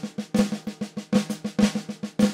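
Drum fill on a bebop drum kit, a lick in five played across two bars of 4-4: a steady run of sharp, close strokes with louder accented hits recurring every few beats, played alone.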